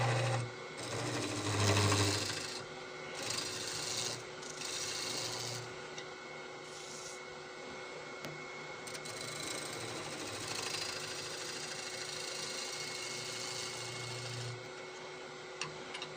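A wood lathe turns a large mountain ash bowl while a tool cleans up the side bevel, giving a steady whirring hum with a continuous scraping, rasping texture that holds at a moderate level throughout.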